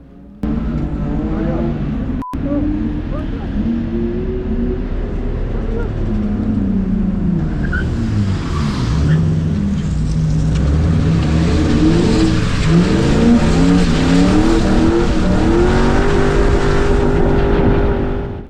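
Drift cars on a track with a hairpin turn while a BMW spins out; loud, steady engine drone with rising and falling revs throughout, and wind-buffeted rumble in the later part.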